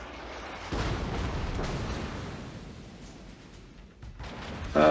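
Heavy naval guns of the Italian battleship Giulio Cesare boom in a World of Warships battle, with a deep blast followed by a long rumbling roll that fades, then a second loud report at the very end.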